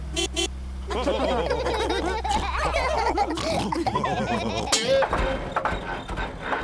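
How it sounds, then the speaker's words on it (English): In a Peppa Pig cartoon, the family car splutters and sounds unwell, giving odd sputtering and wheezing noises mixed with animated character voices and laughter-like sounds. "the car does not sound very well."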